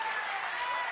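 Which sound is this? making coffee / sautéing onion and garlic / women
women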